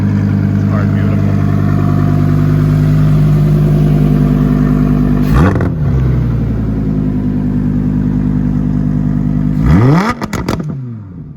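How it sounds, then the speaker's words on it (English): A supercar's engine idles and revs through an aftermarket Quicksilver exhaust, a deep, steady rumble close by with two sharp throttle blips that flare up and quickly fall back. "The valves opening and closing. This is the quicksilver exhaust."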